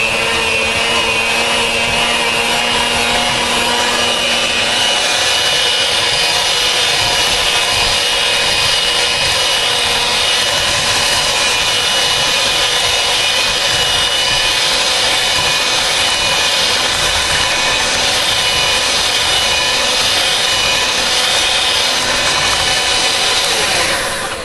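Electric mixer giving a mild beat to a low-fat angel ambrosia cake batter, a loud continuous whirring buzz running steadily for the whole stretch without voices.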